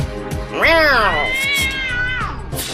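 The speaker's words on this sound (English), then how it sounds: "Meow." A long, drawn-out meow rises and then holds its pitch for about two seconds, loud and close, over a busy background.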